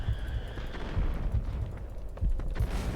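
Gunfire and explosions in the Max Payne 3 video game, a dense run of low booming shots and blasts with bursts around one, two and two and a half seconds, steady and fairly loud with no talk.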